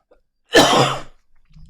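A single harsh cough rings out close by, followed by a quiet murmur as the room settles.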